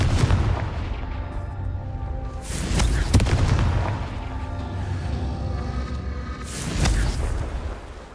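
Fiery Confringo spell blasts in Hogwarts Legacy, heavy booming bursts rolling out over a continuous low rumble, with sharp impacts near 0, 2.5–3 and 7 seconds; no voices.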